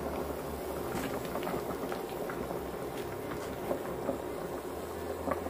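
Beef and seaweed soup simmering over medium heat in a pot, a steady low bubbling and gurgling with small pops throughout, fairly quiet and close, with no talking.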